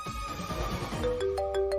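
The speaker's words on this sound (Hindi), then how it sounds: "और तेरे बॉस का फोन है, मल्होत्रा।" A mobile phone ringtone rises out of background music and room noise in a domestic drama scene, a few clear repeating tones sounding at moderate volume.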